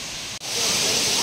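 Suruli waterfall pours down where tourists are bathing, producing a steady, loud, broadband roar of falling water with a momentary dropout near the start.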